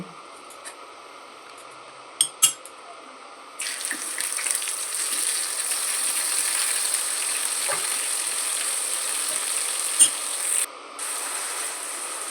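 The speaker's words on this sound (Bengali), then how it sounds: "সর্ষের তেলে বেশ কিছুটা টমেটো কুচি দিয়ে সাঁতলে নেব" Chopped tomato sautéing in hot mustard oil gives a steady, even sizzle that starts abruptly after a few quiet seconds and holds at moderate loudness, with a few clinks of stirring and no talk over it.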